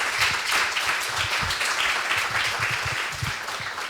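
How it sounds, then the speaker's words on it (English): Audience applause for the panelists at the close of a Dar Slush'D 2023 session, a steady wash of clapping from a crowd lasting several seconds without talk. "give a round of applause to our esteemed panelists"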